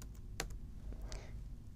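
Keystrokes on a computer keyboard as a short command is entered at a command line, a few quiet, separate clicks in a brief burst over a low room hum.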